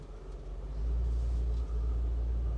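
A 1964 Chevrolet Impala Super Sport's engine rumbles low and steady from inside the car as it pulls away, the drone swelling louder after the first moment and holding even.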